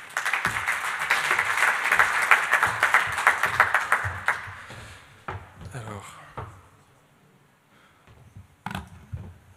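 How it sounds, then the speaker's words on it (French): Audience applause for a presenter introduced at a French-language energy-market forum, a dense burst of clapping for about four seconds that fades out, followed by scattered knocks and rustles in the room. "Merci d'applaudir Monsieur Thomas Giraud."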